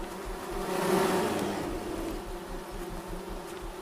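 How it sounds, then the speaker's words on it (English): Bees in the forest game Among Trees buzz as a steady droning hum that swells louder near the start and then settles to an even, close drone, with no talking. "Where are the bees?"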